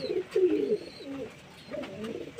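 Pigeons in a coop coo close by in soft, throaty bursts, one near the start and another toward the end, with quieter rustling between.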